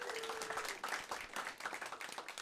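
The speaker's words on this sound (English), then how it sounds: "Clap it up for my grandma." Comedy club audience applauding, a brief, fairly faint patter of clapping from a small crowd lasting a couple of seconds.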